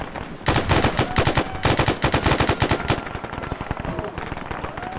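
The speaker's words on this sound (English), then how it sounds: "We are taking fire from infantry, Alex." Sustained infantry gunfire in the ArmA military video game, with dense rapid automatic bursts and overlapping shots continuing for several seconds, loud and close.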